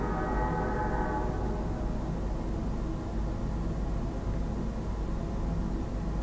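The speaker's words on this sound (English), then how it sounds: "Oh, we got a train going by." A passing train rumbles steadily as a broad, continuous roar that fills the background throughout, fairly loud and unbroken, with no talk over it.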